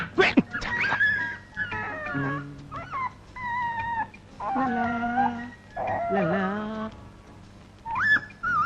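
A puppy whimpers, yips and howls in drawn-out, wavering cries with short pauses, close and fairly clear, in a comedy film scene.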